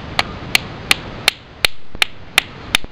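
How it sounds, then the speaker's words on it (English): A hammer stone strikes glass to knap a knife, giving eight sharp, evenly spaced clinks about every third of a second, close and loud with no talking. "And hit this glass with. Here, let's try this."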